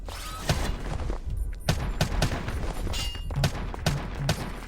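Video game gunfire crackles in repeated sharp shots and short bursts, irregularly spaced and loud, with mechanical clicks between them.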